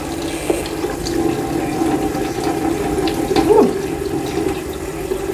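Tap water running into a kitchen sink to soak fruit, a steady close rushing stream throughout with a brief splashy change near the end.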